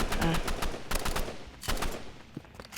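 Rapid bursts of video game gunfire crack in quick sequences, sharp repeated shots like automatic weapon fire, with a brief faint voice early on.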